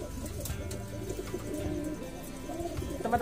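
A black Bali pigeon with an ivory beak, a breed native to Gianyar, coos in low repeated murmurs against a busy background, with a brief higher chirp near the end.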